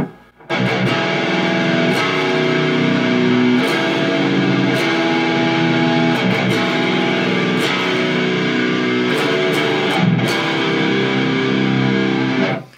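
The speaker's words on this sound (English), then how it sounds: "Now, I am playing a 7-string guitar." A heavy, distorted 7-string electric guitar in B standard tuning churns a death-doom metal riff continuously, low and chugging, with sharp percussive accents at intervals, no drums, bass or voice.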